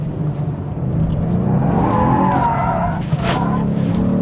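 A rear-drive 2024 Genesis G70 in Sport Plus accelerates hard, its adaptive exhaust giving a loud, rising rumble with tire noise, a brief dip near the end and then a return to full power.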